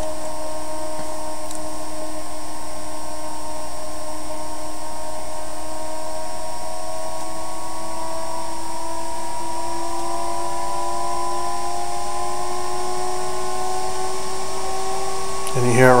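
The cooling fan of a Heathkit SB-200 amplifier hums with a steady, loud whine whose pitch rises smoothly and gradually as it ramps up, alone without talk, with a brief noise at the end.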